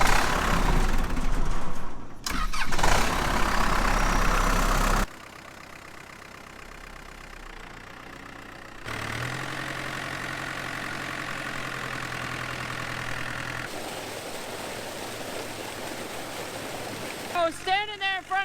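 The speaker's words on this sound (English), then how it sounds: "start this pump up, and get out of here" Engine-powered water pump at a flood-damaged site, first heard under rushing water and handling noise, then starting up into a steady mid-pitched idle that runs on with throttle changes near the end.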